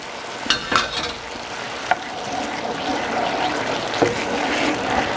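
Liquid is added to risotto rice in a hot pan, producing a steady sizzle and bubbling simmer with a few sharp clicks of a utensil against the pan near the start.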